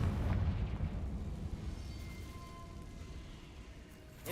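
A Confringo blasting spell exploding in the Hogwarts Legacy video game: a deep, rumbling blast that starts loud and slowly fades into a long low roar, with no talk.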